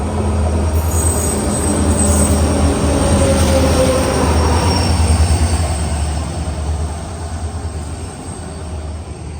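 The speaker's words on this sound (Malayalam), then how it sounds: "ട്രെയിനിപ്പോൾ ദാബോളിം റെയിൽവേ സ്റ്റേഷനിലേക്ക് ഇത് തിരികെയാണ്." Train running toward Dabolim railway station in Goa, a steady loud rumble of wheels on rails with faint squeals, continuous throughout and easing slightly toward the end.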